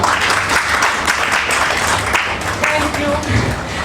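Loud applause from the audience at a cookery business's 40th anniversary function, dense steady clapping filling the room with some voices mixed in underneath.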